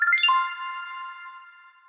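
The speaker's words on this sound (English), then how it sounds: "hold on, there's a phone call. Phone ringing." A phone rings once with a short electronic tone that sustains and slowly fades, heard alone and close.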